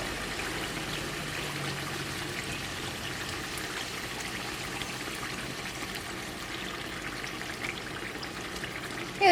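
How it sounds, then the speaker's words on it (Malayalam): Water pours steadily into a chicken curry with thick cashew-paste gravy, a continuous close trickling stream lasting several seconds without a break. "ഇതിലേക്ക് കുറച്ച് വെള്ളം കൂടിയും ചേർക്കാം"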